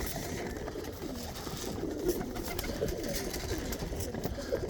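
Tippler pigeons coo softly and continuously in a loft, a low murmuring mixed with faint rustling and other birds, steady and close throughout.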